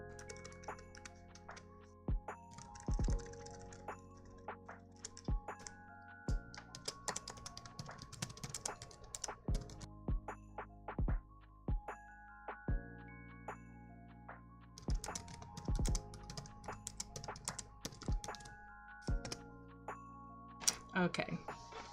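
Computer keyboard clacking in rapid bursts of sharp clicks, heard under chiming game music with ringing tones and occasional voices, during a live stream of Animal Crossing: New Horizons.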